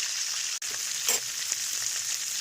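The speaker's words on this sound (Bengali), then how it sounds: "চিংড়ি ভাজার তেলের মধ্যেই আমি একটা শুকনো লঙ্কা আর একটু পাঁচফোড়ন ফোড়নের জন্য দিয়ে দেবো" Dried red chili and Bengali five-spice seeds crackle in hot oil left from frying prawns, a bright steady sizzle close up with a brief sharp pop partway through and no talking.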